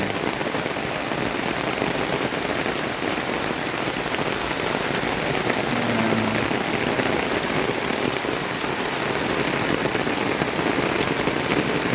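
Heavy rain pours down steadily around a flooded house, a dense continuous hiss of drops hitting surfaces that stays loud and even throughout, with no voices.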